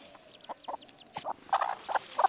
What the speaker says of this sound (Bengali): এই মুরগিটাকে ছাড়লাম এখানে